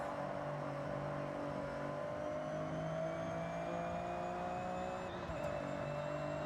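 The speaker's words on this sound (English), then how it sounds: "Oh, just listen to the turbo." Car engine with turbo whine in the Forza Horizon 6 racing game, driving through a city: a steady harmonic engine drone with rising whistling tones, continuous and fairly loud, with a brief dip and shift near the end.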